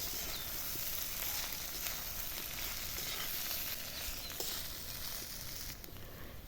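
Chira fried rice with sugar and peanuts sizzles steadily in a pan while it is stirred, a continuous close, even frying hiss with faint scraping and no voices.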